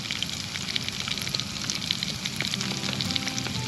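Garlic sizzles and crackles in hot oil in a pan while a spicy eel dish is being cooked, a steady close frying hiss with small pops, no talking.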